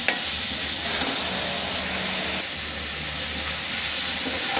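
Dried fish (shutki) and Malabar spinach leaves stir-fry in a pan, a dense, loud sizzle and hiss with stirring scrapes that never lets up.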